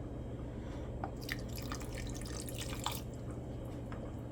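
Water poured over peanuts in a blender jar for porridge, a close, faint burst of dripping and splashing trickle lasting a couple of seconds over a low steady hum, with no voices.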